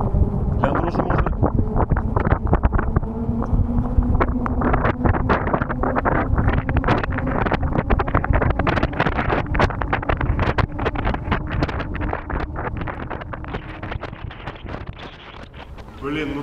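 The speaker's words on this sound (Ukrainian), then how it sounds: "Чутно тільки вітер." Steady, loud wind rush roars over the microphone throughout while riding a fast electric bike through a city in Ternopil, a dense, continuous buffeting that barely eases toward the end.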